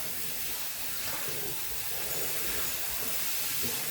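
Cold tap water runs into a pan in a steady, broad rushing hiss, close and constant for the whole stretch, with no voices.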